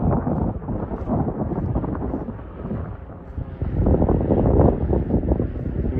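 Strong wind at Larnaca Salt Lake in Cyprus buffets the microphone with a loud, continuous low roar that swells and surges midway, with no speech.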